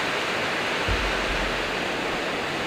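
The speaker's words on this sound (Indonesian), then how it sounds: "Kedengaran banget gak sih suara hujannya?" Steady rain pours in a dense, even hiss that fills the whole stretch, with a brief low thump near the start and no voices.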